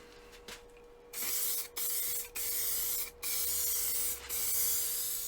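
An aerosol can sprays a fourth coat of lacquer in a series of close hissing bursts, five to six of them separated by brief pauses, each lasting about half a second to a second.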